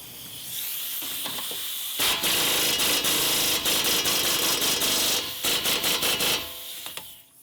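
A stubby impact gun with a 22 mm socket working on a 2002-06 Toyota Camry's suspension: a harsh whirr starts, then gives way to loud rapid hammering bursts that pause briefly and resume before spinning down.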